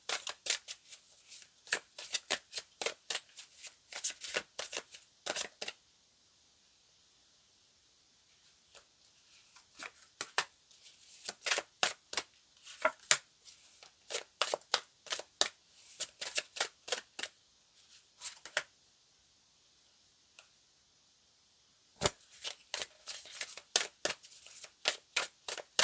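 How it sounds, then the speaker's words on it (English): Tarot cards being shuffled by hand, with quick papery riffles and taps arriving in close, dense bursts that are separated by a few short pauses, recorded nearby with no talking. "let's pull out some tarot cards"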